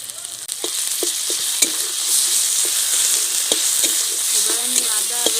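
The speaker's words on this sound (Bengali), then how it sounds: "এবার আমি আদা রসুন যতক্ষণ না কাঁচা গন্ধটা কাটছে আমি এভাবে নাড়তে থাকবো" Ginger and garlic paste sizzling steadily in a hot pan for a stuffed pointed gourd curry, with a spoon scraping and stirring in repeated short knocks over the continuous fry hiss.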